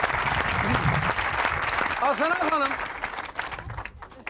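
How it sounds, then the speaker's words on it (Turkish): A studio audience on a 2000 Turkish TV talk show applauds the orchestra with sustained, loud clapping that tapers off toward the end, while someone speaks and someone briefly sings or calls out over it. "bir orkestraya alkışlar mısınız?"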